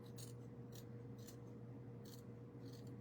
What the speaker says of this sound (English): Let me cut a little smaller one out.